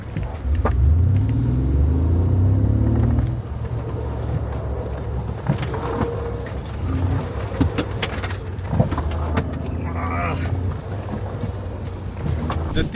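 A Mercedes G-Wagon works through a slalom course at an off-road experience centre in Graz, Austria, its engine rising in loud, swelling pitch at first, then settling into a lower, uneven rumble with scattered knocks and clatter.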